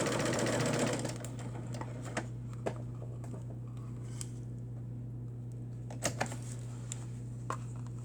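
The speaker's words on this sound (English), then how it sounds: "And then I sew down" A sewing machine runs briefly while stitching down the center of a doll garment, a short mechanical whir at the start, then soft ticks and clicks against a steady low hum.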